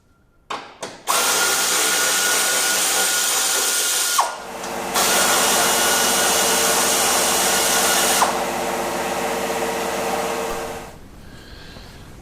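Power tool, likely an impact gun, removing four 15mm bolts from the exhaust of an HSV R8 Maloo ute. It runs loud and close in long sustained whirring bursts, with a brief pause partway through and no talk.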